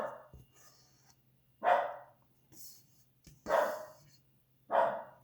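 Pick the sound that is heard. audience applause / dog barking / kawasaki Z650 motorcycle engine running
dog barking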